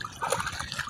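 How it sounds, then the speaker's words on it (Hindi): Floodwater from the Ravi River rushes past a village after a protective embankment has broken, a steady watery churn and trickle sounding close and continuous throughout. "पानी आ गया सैलाब इत्थे फ्लड ते जोर वेख सकते हो"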